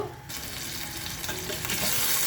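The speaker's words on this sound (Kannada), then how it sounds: "ಈ ಥರ ಶುಂಠಿ ಬೆಳ್ಳುಳ್ಳಿದ ಹಸಿ ವಾಸನೆ ಇರುತ್ತಲ್ಲ ಅದು ಹೋಗೋ ತನಕ ಸ್ವಲ್ಪ ಫ್ರೈ ಮಾಡ್ಕೋಬೇಕು." Ginger garlic paste and cumin fry in hot oil in a pan, a dense continuous close sizzle with faint stirring scrapes, no voices.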